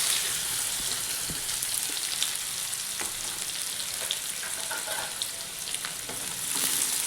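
Chopped onion sizzles steadily in hot oil with mustard seeds and cumin for a spicy cowpea pod curry, a close, continuous frying crackle with scattered small pops and no talking.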